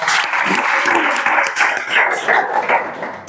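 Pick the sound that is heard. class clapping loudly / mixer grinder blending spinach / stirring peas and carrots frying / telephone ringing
class clapping loudly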